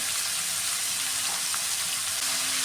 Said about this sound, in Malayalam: സവാള വഴറ്റിയെടുക്കാമേ